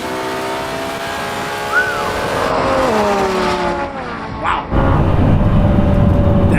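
A Lamborghini Revuelto and a Ferrari SF90 launch side by side in a drag race, with loud engines revving and rising in pitch through gear changes, then surging roar as they pull away, close and dominant.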